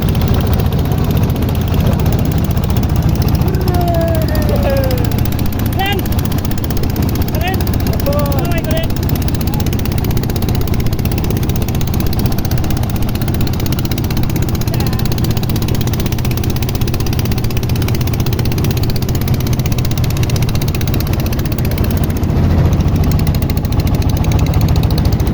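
A fishermen's motorboat engine drones loud and steady alongside another boat on a river in Kurigram's char region, a constant close rumble with faint brief whistles early on.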